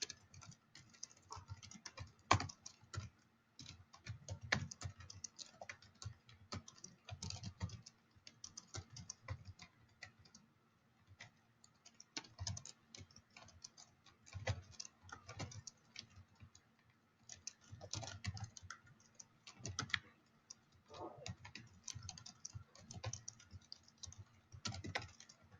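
Typing on a computer keyboard using the Dvorak layout, a quiet, close run of rapid clicky keystrokes in irregular bursts with brief pauses, no voices.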